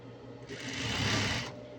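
A sewing machine stitches in one steady, close whirring burst of about a second, rising from and falling back to quiet room hum.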